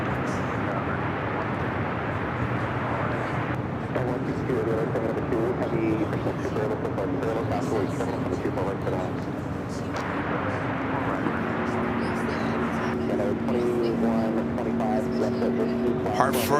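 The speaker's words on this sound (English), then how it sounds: "This is United Airlines, flight 2125 coming in from Chicago on the 757-300." United Airlines Boeing 757-300 airliner arriving from Chicago, a steady broad roar with engine whine building toward the end, talk over it throughout.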